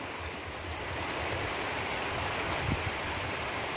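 Heavy rain pouring down during a thunderstorm and collecting in a water drum, a dense, steady hiss of falling water close by with no voices.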